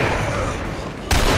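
Steady loud game noise in a Resident Evil 4 mod, then a single heavy hand cannon shot booms near the end.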